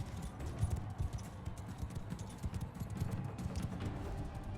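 Horse hooves clip-clop in steady, rapid rhythm through a Bannerlord battle, a continuous galloping patter at mid distance with a dense background of game noise and no talk over it.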